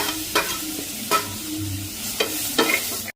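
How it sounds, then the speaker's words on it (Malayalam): Curry leaves and black pepper fry in a pan for an oyster roast, stirred with a utensil in four sharp scraping strokes over a steady close sizzle, no talking. "ലേശം കുരുമുളക് കൂടി ഇട്ട് കൊടുക്കുക അതിനകത്തേക്ക് കൊണ്ട് ഇളക്കുക"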